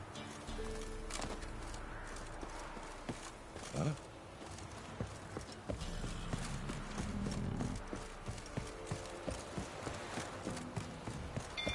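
Hoofbeats of Roach, a horse galloping in The Witcher 3, pound in a steady rhythm throughout, with brief talk and a sharp sound near the middle.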